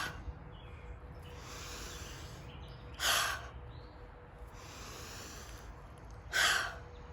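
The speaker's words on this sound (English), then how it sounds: "inhale as big as you can, expand as big as you can, and then exhale out of your mouth like a quick sigh" Two sharp, quick exhales through the mouth after big yoga inhales, each a brief breathy whoosh about three seconds apart, with faint soft inhale breathing between them in a quiet room.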